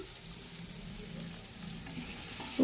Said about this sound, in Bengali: ভালোভাবে এগুলো একটু ভাজা করে নেব